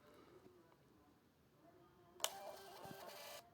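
A small Bluetooth receipt printer at a point-of-sale counter starts printing after a quiet pause, giving a sudden, close, buzzing whir of the thermal print head that runs steadily for about a second before stopping.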